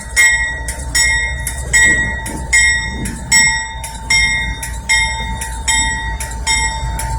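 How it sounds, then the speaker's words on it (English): Steady low rumble of idling Norfolk Southern diesel locomotives in Kenney rail yard, Lynchburg, Virginia, with a constant hum, overlaid by regular rhythmic high-pitched clicking or ringing bursts roughly every half second; no talk. "these two Norfolk Southerns right here, they're running. I can hear their diesels"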